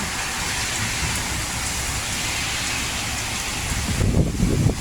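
Heavy rain and wind in Bangkok, a loud continuous hiss of downpour beating on surfaces, swelling with a rougher gust-like surge near the end.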